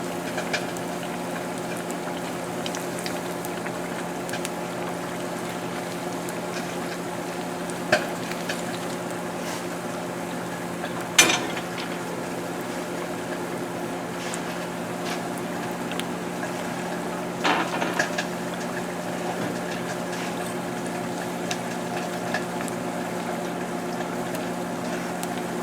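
Beer-battered salmon fillet halves fry in hot oil at 375 degrees, giving a steady, even sizzle with a few soft clicks and knocks from cookware.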